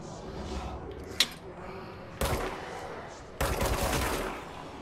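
Gunfire in the video game Control, fired at civilians, comes as a few sharp bursts of shots over steady game background noise, close and loud, spaced a second or so apart.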